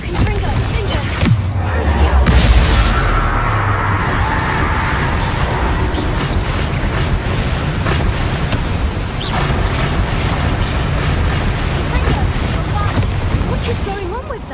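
Spell-blast explosions boom and crackle in the Hogwarts Legacy video game, loud and continuous with a heavy rumble early on and sharp impacts throughout, mixed with game effects and a voice.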